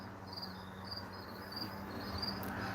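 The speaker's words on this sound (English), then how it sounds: "You can hear the crickets chirping more than likely." Crickets chirp outdoors on an evening in a steady, faint chorus of high, pulsing trills, rising and falling gently without a break, with no voices.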